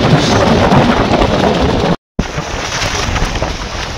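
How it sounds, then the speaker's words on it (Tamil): Strong mountain wind blasts across a Himalayan trail, a loud, roaring buffeting that batters the microphone nonstop, with a brief dropout midway before the gusts return. "காற்று அடிச்சு கீழே தள்ளுது"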